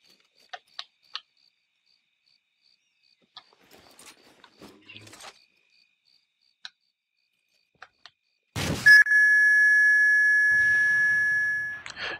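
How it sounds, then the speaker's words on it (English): Firing a launcher in Arma 3 brings a sharp blast followed by a loud, sustained high-pitched ear-ringing tone that slowly fades, after a few faint clicks and small sounds. "You will get quite some beep in your ears"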